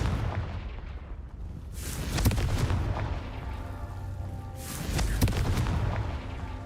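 Confringo blasting spell explosions in a Harry Potter video game: two heavy booming blasts a few seconds apart, loud and rumbling over a continuous low background roar, with no talking.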